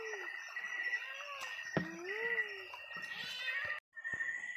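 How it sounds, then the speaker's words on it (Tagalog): A cat meows several times with rising and falling cries, close by, among outdoor background noise near a small creek where people have been catching shrimp. "May pusa oh."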